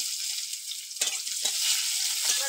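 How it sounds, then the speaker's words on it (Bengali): Dried chili, five-spice seeds, bay leaf, chopped onion and garlic dropped into hot oil over a clay stove, a steady bright sizzle with a sharper burst about a second in and a few stirring clicks, close by. "তেল গরম হয়ে গেছে, আমি শুকনো লঙ্কা কাটা ফোড়নে দিচ্ছি।"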